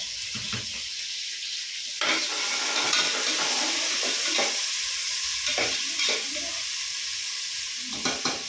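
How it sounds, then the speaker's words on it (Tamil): Chopped onions sautéing in a hot pan, sizzling loudly and steadily, with bursts of stirring and scraping from a spoon recurring every few seconds. "நல்லா வெங்காயம் வதங்கணும்."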